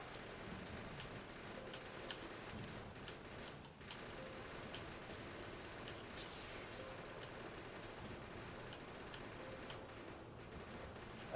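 Rapid, continuous gunfire from turrets and weapons in the Factorio video game, a dense crackling fusillade that runs steadily throughout at low volume.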